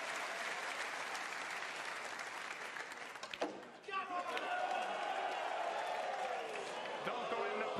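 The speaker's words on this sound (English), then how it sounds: "And listen to the crowd here." A snooker arena crowd at the UK Championship qualifying applauds at length after a final, with sustained clapping and cheering and a commentator talking over it, a brief dip midway before the applause swells again.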